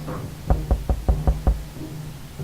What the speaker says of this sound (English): I heard the door, but Mary Jane's not back.